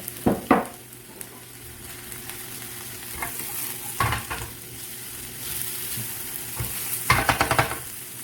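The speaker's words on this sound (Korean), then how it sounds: "마늘하고 파부터 먼저 넣어볼게요." Garlic and green onion stir-fry in oil in a pan, giving a steady close sizzle with a few louder bursts of scraping and stirring.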